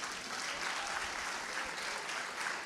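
A church congregation applauding during a Brazilian service, a dense, even roar of many hands clapping that holds steady for nearly three seconds without pause.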